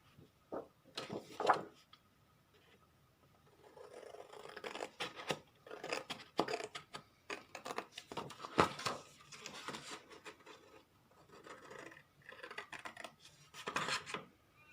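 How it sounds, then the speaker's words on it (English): Scissors snip and rasp through paper while cutting out a small kangaroo shape, in quiet, close, irregular cuts and rustles with short pauses between strokes. "So we'll cut out another kangaroo."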